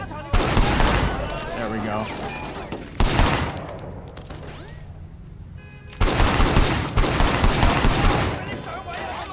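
Blind-fire gunshots in the video game Sleeping Dogs: three loud bursts of rapid automatic fire, close, separated by short lulls of background game noise, with someone briefly talking between volleys.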